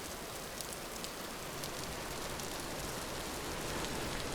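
Steady rainfall in the game Vintage Story, a dense even hiss of drops pattering on surfaces that holds at the same level throughout, with no talking.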